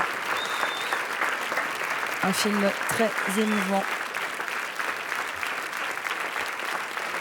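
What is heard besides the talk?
applause as film team enters the Grand Théâtre Lumière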